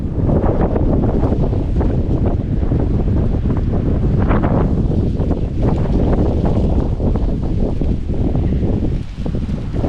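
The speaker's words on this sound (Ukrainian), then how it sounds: "як же сильно дує вітер" Strong wind roars and buffets the microphone continuously, a heavy low rumble with gusting surges and no voices.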